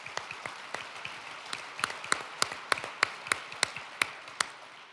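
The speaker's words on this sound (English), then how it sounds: "So please give all of those great folks a round of applause." Audience applause at a petroleum industry conference, a room of scattered claps with sharp individual hand claps popping out, building slightly louder toward the end with no talking.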